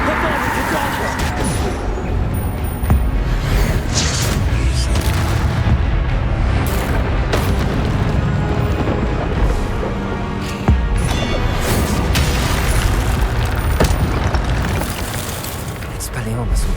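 Repeated booming spell impacts in the Hogwarts Legacy video game, heavy crashes and blasts over a dense roar of battle effects and score, continuous and loud with sharper hits recurring throughout.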